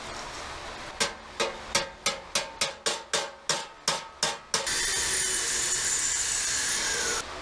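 A wedge or chisel is hammered at the spot welds on a 1965 Chevrolet C10 truck bed, giving about a dozen sharp metallic strikes in an even rhythm, followed by a steady, loud, continuous hiss or whir.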